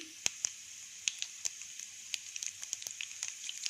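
Mustard seeds, chana dal, urad dal and cumin spluttering in hot oil in a pan, a low sizzle broken by many sharp, scattered pops that grow more frequent toward the end.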